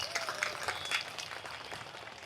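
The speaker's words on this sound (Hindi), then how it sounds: "ताली बजाइए हमारे देश की बेटी के लिए" An audience applauds for President Droupadi Murmu during a speech, with scattered, fairly faint clapping that continues evenly for a couple of seconds.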